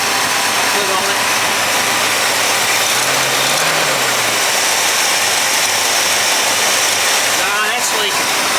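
A 1964 Pontiac 389 V8 idles with an exhaust leak at the manifold-to-downpipe flange, a steady loud engine rumble with faint ticking puffs, and voices talk briefly over it.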